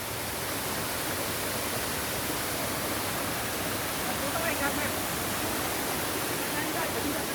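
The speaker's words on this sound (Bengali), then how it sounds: "এই যে পানিটা আসতেছে," Water pours into Jharna Lake at the Bangladesh–India border with a dense, steady rushing roar, like a waterfall, running unbroken throughout.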